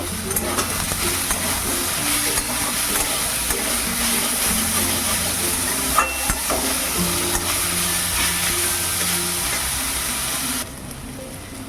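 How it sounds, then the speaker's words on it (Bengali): Gime greens with potato and eggplant stirred in a frying pan, a steady loud sizzle with scraping stir sounds throughout that drops away near the end. "দিয়ে আরেকটু ভালো করে কিন্তু নাড়াচাড়া করব"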